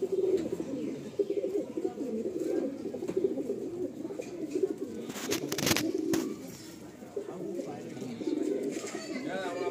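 Madrasi pigeons, a newly paired couple, coo in low soft repeated murmurs close by, with chirps and handling noise and people talking throughout.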